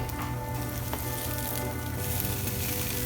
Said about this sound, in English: Let me get some type of utensil here to swirl this about.